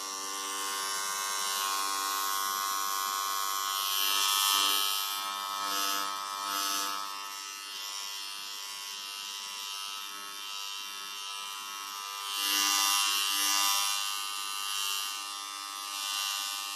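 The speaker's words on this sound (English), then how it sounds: "He went to the restroom and took a trimmer and razor." An electric hair trimmer shaves a head, giving a steady close buzz that runs without a break and swells louder at several points as the blade presses and moves across the scalp.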